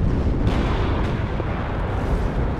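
Artillery fire in the WARNO war strategy game produces a dense, continuous rumble of booms and blasts, loud and unbroken across the whole stretch, with no voices over it.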